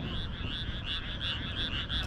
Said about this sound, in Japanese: カエルの合唱と花火がコラボしていますね。